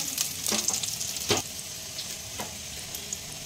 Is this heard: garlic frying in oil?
yes